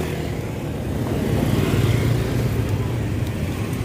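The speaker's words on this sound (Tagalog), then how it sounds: "Dami kasing motor." Street traffic thick with motorcycles in the Maldives, a continuous rumble of small engines that swells slightly as they pass, with faint voices in the background.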